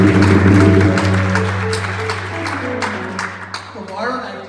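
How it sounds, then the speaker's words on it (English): Devotees applaud at a Maha ShivRaatri yagya at Devi Mandir in Pickering, Ontario, a brief scattered clapping beneath a loud, steady hum and a voice. "Let us give Vyas ji a big round of applause."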